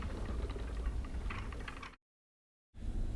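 An antique spinning wheel runs with a steady patter of soft ticking and rattling clicks for about two seconds, then stops briefly before the wooden clatter resumes, close and fairly quiet.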